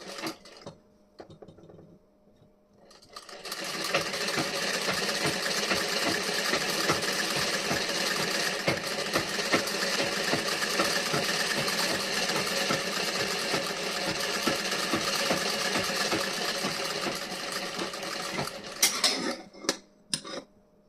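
A sewing machine stitches a seam on the front panel of a blouse, running in a steady, continuous whir for most of the stretch after a brief quiet start, then stopping with a few clicks near the end.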